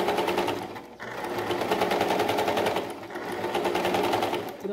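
A sewing machine stitching the edge of an appliqué patch runs continuously with a rapid, even whir, slowing briefly twice before picking up again, close and alone.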